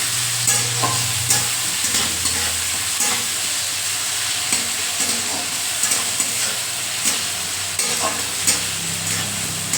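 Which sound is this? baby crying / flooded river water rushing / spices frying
spices frying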